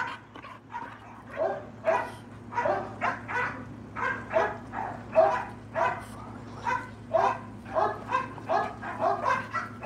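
American bulldogs bark repeatedly in a steady, fast series of moderately close woofs and yips, with no talking over them.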